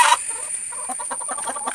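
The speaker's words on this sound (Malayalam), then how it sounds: "നമുക്ക് മുട്ട തരുന്ന കോഴികളാണ്." Egg-laying hens cluck in a series of short, close, soft clucks at an irregular rhythm, with a steady high-pitched tone in the background.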